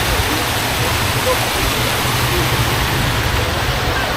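Water pours out from the sides of a free communal washing spot in Quezon, Bukidnon, a dense, steady rushing that fills the clip at close range without any break.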